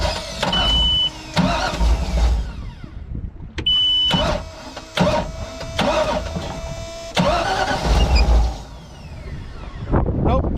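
A Ski Centurion boat engine revs repeatedly in loud surging bursts with a whining slipping belt, cutting back between pulls, heard up close with people talking over it.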